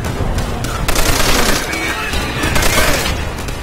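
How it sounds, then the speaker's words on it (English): Browning machine gun firing in Call of Duty: World at War during a hilltop battle, dense rapid bursts of loud gunfire filling the whole stretch amid battle noise. "I have this again, a Browning MG, the machine gun with me."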